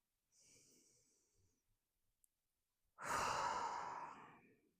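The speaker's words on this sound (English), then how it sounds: "We're going to breathe in through the nose," A person takes a slow, deep breath in through the nose, pauses, then exhales fully and audibly, a soft airy inhale followed by a louder, longer breathy release, close and alone.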